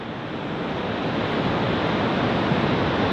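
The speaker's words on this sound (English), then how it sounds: "just seeing the waves crashing like that, I love it" Ocean waves crash onto a beach reached through an underground tunnel, a steady, loud, broadband roar of surf with wind buffeting the microphone, no voices.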